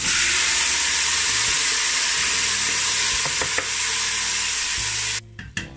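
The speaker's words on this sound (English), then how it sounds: "Once the garlic burn in the oil, you want to go on in with your oxtail and you want to throw it in." Oxtail pieces hitting hot oil where garlic has browned in a home kitchen, a loud close sizzle and hiss with stirring clatter, continuous, then quieting abruptly near the end.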